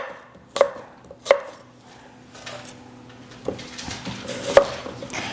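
A knife slices a red apple on a cutting board in sharp, distinct chops, three quick strikes close together, a pause, then more cuts, each one crisp and near with quiet gaps between.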